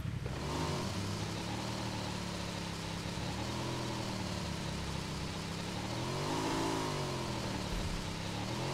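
A motorbike engine in BGMI drones steadily and close, its pitch rising and falling as the rider revs and eases off, with wind rush and no talk.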